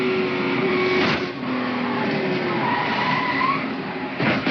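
Race car at the 2001 Daytona 500 crashing hard into the outside wall, heard as a loud sustained tire skid and engine roar with sharp impact bursts, no voices.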